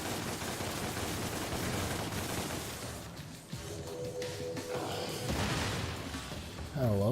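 Gunfire from the action video game DmC: Devil May Cry comes as rapid bursts of shots amid busy combat effects and clatter, with a fairly loud, dense mix and some voice over the top.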